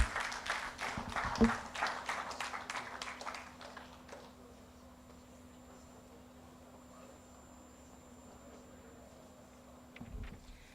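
Clapping from an audience after a human rights week talk, a dense burst of many hands in the first few seconds that thins out and fades, leaving a quiet room.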